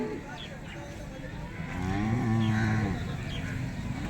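A cow at the Loni cattle market in Maharashtra gives one long, close moo rising out of a steady murmur of background noise.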